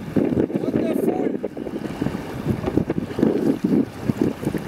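Strong wind buffets the microphone in rumbling gusts while people talk nearby, during a canoe trip on the Rivière aux Feuilles in Nunavik, Quebec.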